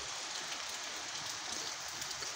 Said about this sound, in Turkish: Yağmur maşallah güzel şekilde yağıyor.